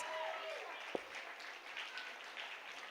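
A school audience at the Aradhya Gurukula Sambhrama 2025 event applauds the children's performance, with a soft, steady wash of clapping heard from a distance and a voice faintly over it.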